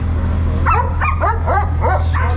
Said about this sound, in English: The most barking dog.